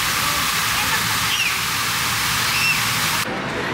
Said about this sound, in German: gucken wir uns einfach ein bisschen eine Wasserwand an